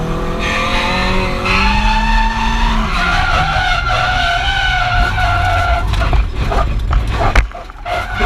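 Nissan S14 Silvia drift car with an SR20DET engine, skidding with tire squeal and a loud engine tone before thudding into a wall near the end; a strong continuous slide sound with a sharp impact.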